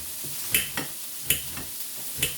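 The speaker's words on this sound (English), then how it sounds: "I'll let those keep sauteing." Vegetables sautéing in a pan, a steady hiss of sizzling with a few sharp clicks and scrapes spaced about a second apart, close and moderately loud with no talking.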